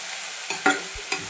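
A spatula turns a moong dosa filling of potato and coriander in a hot pan, making a few close scraping strokes over a soft continuous sizzle, with no voices.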